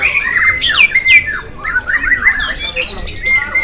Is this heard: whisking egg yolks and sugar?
no